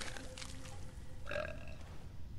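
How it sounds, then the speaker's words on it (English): A single drawn-out, gurgling burp from a Fallout 4 video game character rises mid-clip over a faint background, with no one talking. "I think the burp is the worst part"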